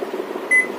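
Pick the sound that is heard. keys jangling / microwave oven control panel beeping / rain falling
microwave oven control panel beeping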